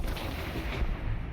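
Circular missile attack from the strategy game Gladius - Relics of War: a burst of booming, gunfire-like blasts rolling through a short, dense stretch at steady loudness, with no talking.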